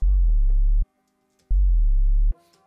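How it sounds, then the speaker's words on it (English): Sub-bass sine-wave synth patch in Ableton Live for a dubstep growl, two loud sustained low notes with a slight pitch bend at the start, separated by a short silence, no voices. "It's literally just a sine wave."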